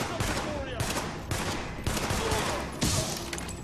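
Pistol gunfire in The Division video game: a rapid string of sharp, loud shots fired in quick bursts of roughly four to six, close and dense, with faint game sounds between them.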